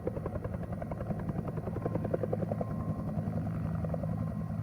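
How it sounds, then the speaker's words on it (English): A helicopter in the video game Alpha Polaris thrums steadily with a rapid, even rotor chop, moderately loud and continuous throughout, with no voices over it. "Sounds like a chopper."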